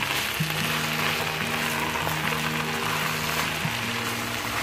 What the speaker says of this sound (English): It's time to add our whisked yogurt into this